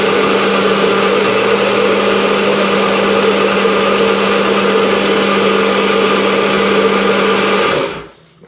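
A NutriBullet blender whirs loudly and steadily for several seconds with a constant high motor whine, then cuts off abruptly near the end.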